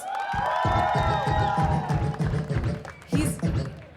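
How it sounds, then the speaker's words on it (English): A crowd at a live outdoor bhangra celebration in Vancouver cheers and claps over thumping rhythmic beats, with whistles and shouts rising at the start and the music's pulsing bass continuing loudly underneath. "I want you guys to give him a big round of applause"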